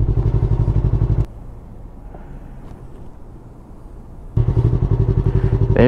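A 2020 Yamaha R3 motorcycle engine revs loudly with a steady pulsing drone, drops to a quieter idle-like rumble in the middle, then surges back up to a strong rising rev near the end.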